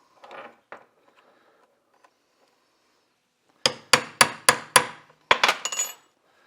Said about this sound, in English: We're going to go between this washer and the bearing and just give her some taps and she starts coming apart.